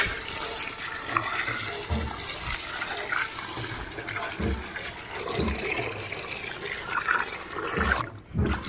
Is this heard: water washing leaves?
yes